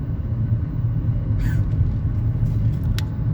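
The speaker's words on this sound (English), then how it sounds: "I got this FedEx truck behind me, y'all." A FedEx delivery truck rumbles close behind a car, a steady low engine drone filling the whole stretch with a brief brake hiss midway.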